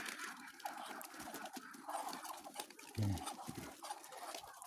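Muscovy ducks and other poultry on a farm make soft clucks, coos and chatter scattered around, with one louder low call near the middle.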